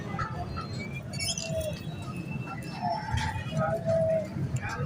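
Soft pigeon coos drift in and out beneath a low rumbling background at a pigeon market, with a few faint chirps.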